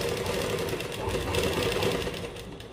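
A sewing machine stitching the neckline seam of a kurta made from plain fabric runs as one steady, close whir without pause, with no talk over it.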